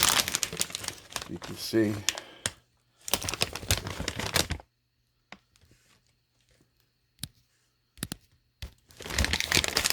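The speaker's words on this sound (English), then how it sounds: "what we have here is some corn chips. This big bag. I just opened it." A big, freshly opened bag of corn tortilla chips is crinkled in loud, close bursts of crackling plastic. Someone talks between and over the rustling, and there are quieter gaps with only occasional small crackles.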